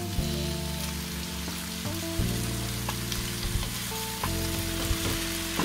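Shredded cabbage tossed into a hot pan of vegetables for veg chowmein, sizzling and frying loudly with stirring and scraping, a steady crackle broken by a few louder stir bursts, close and with no talking.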